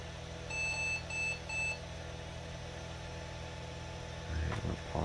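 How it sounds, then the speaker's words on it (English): Three short electronic beeps from a mid-1990s Micron Pentium 100 PC starting up sound in quick succession against a steady machine hum, followed by a soft clunk near the end. "We should get a couple beeps here."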